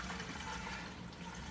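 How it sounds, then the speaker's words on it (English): Coolant pouring into an extra large car radiator during a refill, a steady close liquid gush and splash running throughout without pause. "I'm going to keep pouring in the first gallon"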